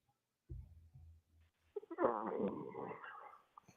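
A brief dog-like growl or whimper heard over a phone call, faint and muffled. It starts with low rumbles and then rises into a short, harsher burst of sound.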